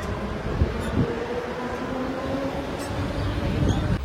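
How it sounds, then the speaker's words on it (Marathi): A train arriving at a Mumbai station rumbles steadily nearby with low rolling noise and faint squeals of wheels, a continuous heavy roar without talk. "चला भाई ट्रेन भेटली आपल्याला जाऊ आता आपण"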